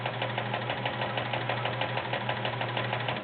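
Kenmore 1430 household sewing machine with a size 16 needle stitching through three layers of garment leather, a fast, steady, even mechanical whir with rapid regular needle pulses, close and continuous.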